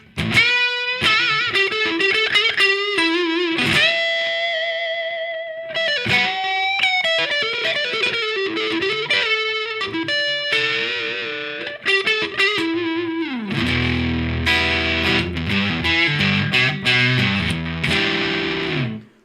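An electric guitar played through a new affordable overdrive pedal pushed almost into fuzz, chords and single-note riffs with a fat, chewy distorted tone, loud and continuous with no talking.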